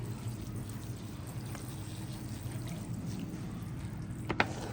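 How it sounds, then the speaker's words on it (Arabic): Water is poured into a potted onion plant on a balcony, a soft continuous trickle and pour close by, ending in a couple of brief sharp knocks. "لحد ما القصرية تنزل مية من تحت كده، اتأكد ان البصل اتروى كويس جدا"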